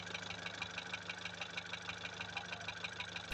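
A car engine idles steadily while its swirl flap actuator is tested, a close, even mechanical hum with a fast regular ticking pulse throughout and no voices.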